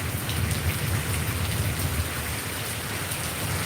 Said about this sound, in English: I don't think it's supposed to rain long.